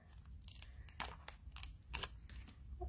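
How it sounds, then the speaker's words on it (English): Paper snips cut through paper for card making, a quiet series of crisp snipping and crunching cuts in an uneven rhythm, close up with no talk. "So I just take my paper snips and go along"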